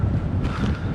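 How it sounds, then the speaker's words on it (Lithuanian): Strong wind buffeting the microphone on a tall sand dune in northern Denmark, a steady roaring rush with gusty swells across a short moment, no voices. "Labai vėjas pakilo didelis čia."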